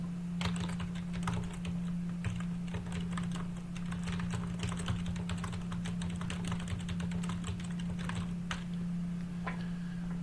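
Steady typing on a computer keyboard, a quick run of light, close key clicks over a constant low electrical hum, with no talking.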